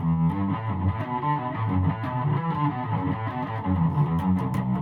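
A bass guitar played through an Electro-Harmonix Lizard Queen fuzz pedal an octave up, distorted yet fairly clean, with a repeating riff, loud and upfront.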